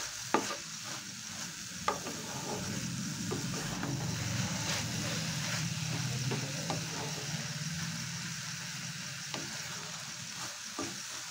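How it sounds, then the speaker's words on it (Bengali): Carrot halwa cooks in ghee in a pan, stirred steadily, giving a soft continuous sizzle with a few sharp scraping clicks of the spoon against the pan. "এইভাবে একটু খুব ভালো করে একটু নাড়িয়ে চেড়ে নিতে হবে।"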